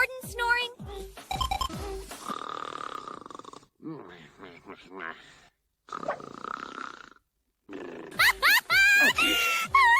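Exaggerated snoring with grunting, snorting breaths comes in several bursts separated by short silences, loud and close, mixed with brief squeaky vocal sounds.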